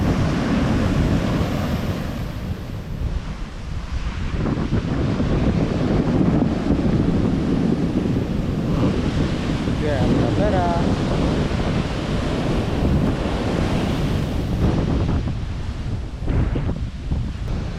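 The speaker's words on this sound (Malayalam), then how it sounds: "നല്ലപോലെ തിരമാലകൾ അടിച്ച് കയറി വരുന്നുണ്ട്" Rough sea surf roars continuously, waves breaking and washing in on the shore with heavy wind buffeting the microphone throughout.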